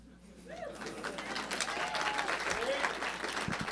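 An audience breaks into applause that swells after a quiet start and then holds steady, with a voice and a cooing bird audible underneath.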